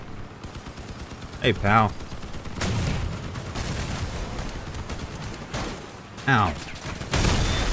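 Repeated shotgun blasts fired from a vehicle in the Crossout combat game, coming in bursts among steady engine and battle noise, with a voice talking over them.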